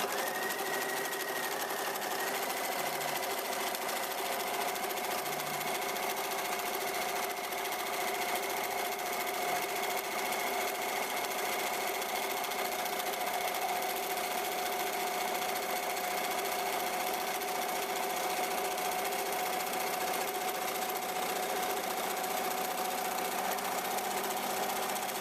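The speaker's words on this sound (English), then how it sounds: "I'm going to put him in my machine, and first I'm going to stitch around the outline" A sewing machine stitches around a quilt outline, with a steady, continuous mechanical whir and hum running unbroken throughout.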